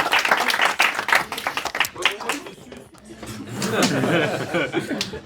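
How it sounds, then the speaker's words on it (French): Audience at a free stand-up comedy show bursts into applause mixed with chuckles and laughter, close and lively, swelling again after a brief lull with talk overlapping. "Vous pouvez applaudir tant que je bois?"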